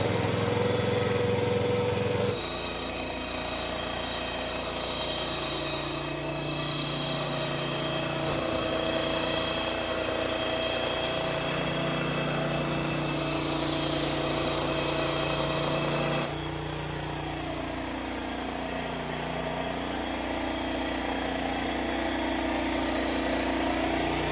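A tractor engine runs steadily with a back rotary tiller working wet, muddy field soil, a loud close droning hum with a slight shift in pitch partway through, and no talk.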